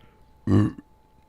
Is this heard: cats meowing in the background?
no